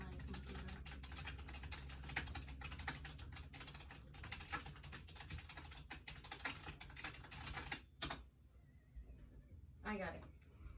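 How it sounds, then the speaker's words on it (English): Fast clicking on a computer keyboard runs steadily for several seconds, close and fairly faint, and stops near the end, where a short burst of speech is heard. "I'm just typing it in on my computer."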